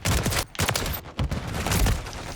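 Rapid bursts of rifle fire in the online survival game Rust from a fast-rechambering 30-round weapon, loud and close, broken by brief pauses.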